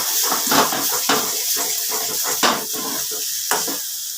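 Hilsa roe mash sizzles in a pan while a spatula stirs it, producing a constant close frying hiss punctuated by several sharp scraping strokes against the pan.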